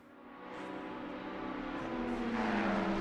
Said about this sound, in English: Yeah, Z4 engine sounds immense